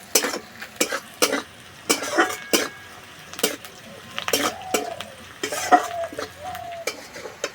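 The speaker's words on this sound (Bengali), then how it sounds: "এর থেকে বেশি আর পেঁয়াজ ভাজবো না" Onions frying in a pan, with sharp stirring scrapes and clatters of a utensil over a steady sizzle, alone with no talk.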